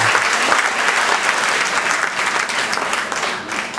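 Audience at an evangelistic revival service clapping loudly and continuously, a dense close wash of applause with faint crowd murmur underneath.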